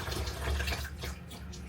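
A home tap runs in a kitchen where tilapia is being fried, giving a soft, steady hiss of flowing water with slight splashing, faint and alone.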